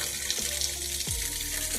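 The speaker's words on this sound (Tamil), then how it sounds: "தண்ணி சவுண்டு தான் அதிகமாக கேட்கும்னு நினைக்கிறேன்." Water runs steadily while garden plants near a sweet lime tree are watered, a close, continuous hiss and splash with a couple of faint low knocks.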